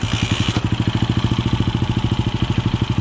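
A motorcycle engine idles close by with a steady, fast, evenly pulsing thump that runs alone and unbroken throughout.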